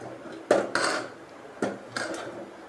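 Fish curry stirred in a metal cooking pot: four distinct scraping knocks of a spoon against the pot come in two close pairs, near and fairly loud, with no one speaking.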